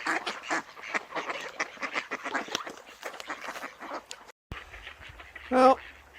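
A crowd of ducks on a river at dusk quacks and chatters continuously nearby, a busy overlapping clamor, with a person talking among them and one louder call near the end.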